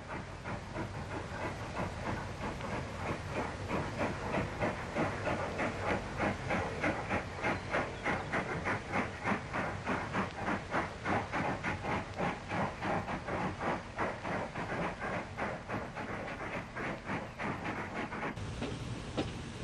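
A pair of steam locomotives, an 0-6-0 and a 4-4-0, haul a train of failed railcars on an Irish broad gauge line, their chuffing exhaust beating in a fast, steady rhythm with hiss, loud and near for the whole stretch.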